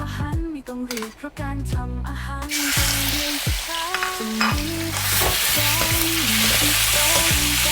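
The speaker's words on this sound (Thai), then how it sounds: "จากนั้นเราจะทำการเอาเนื้อลงไปผัดก่อน" Beef sizzles loudly in a hot oiled wok while it's stir-fried, with scraping and clanking of a metal spatula against the pan over a steady frying hiss.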